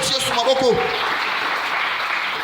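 A church congregation applauding the Lord with a dense, continuous wash of clapping, while voices call out briefly at the start above the applause.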